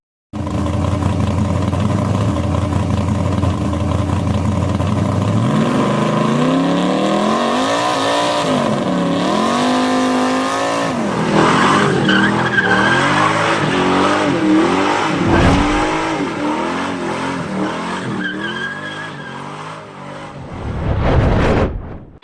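Ford Mustang with a 4.0 engine, supercharged and turbocharged, revving hard with a rising, sweeping exhaust note through repeated climbs and drops, loud and close with no talk.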